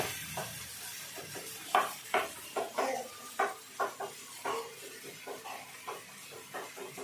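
Tomatoes sizzle steadily in a hot pan while a spoon stirs them in a run of distinct scraping strokes, close and clear over a continuous frying hiss, with no talking.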